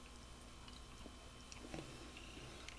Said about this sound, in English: excuse my chewing